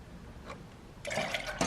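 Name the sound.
pouring milk into a pot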